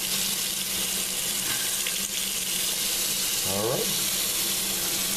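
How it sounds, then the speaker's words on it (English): Water running steadily from a newly installed bathroom faucet, a continuous hiss of flow with a brief spoken remark over it. "Run it a little bit until the water clears off."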